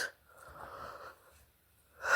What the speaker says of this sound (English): sorry about the yawns, y'all.